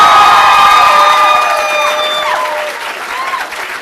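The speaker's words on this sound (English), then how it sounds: "he can hear our applause" A graduation ceremony crowd at the Institute of Social Studies in The Hague applauds loudly with cheers and whoops rising over the clapping, then the noise gradually fades.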